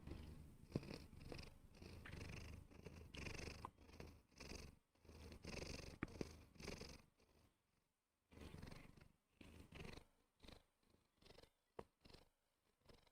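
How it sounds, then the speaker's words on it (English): A house cat purrs softly up close, a steady low rumbling throb in long breaths with brief pauses between stretches. "do you want to do some ASMR purring?"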